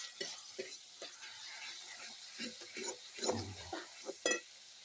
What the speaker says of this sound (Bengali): মাছের ঝাল করবো তো সুন্দর করে মশলাগুলো কষাতে হয়।